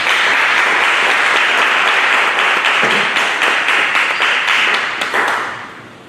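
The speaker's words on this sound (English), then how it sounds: "Let's give him a round of applause." Sustained audience applause at a Veterans Day celebration following the introduction of an Army sergeant first class keynote speaker, loud and dense clapping throughout before tapering off at the end.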